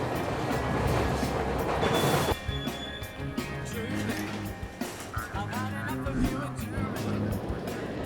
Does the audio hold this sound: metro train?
yes